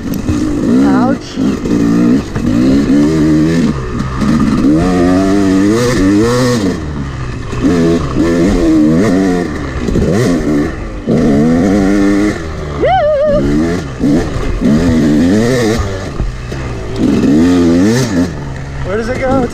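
Yamaha YZ250 two-stroke dirt bike engine revving hard and loud while ridden on a trail, pitch rising and falling through throttle blips and gear changes, with a brief dip mid-run.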